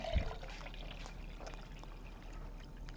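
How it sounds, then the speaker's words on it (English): Water pours into a jar for making water kefir, a soft continuous trickling splash close by, fairly faint under room noise. "So you fill up to the second line"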